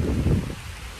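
Rain falls on a farm field, a dense broadband hiss that swells briefly then eases, steady and fairly close with no voices.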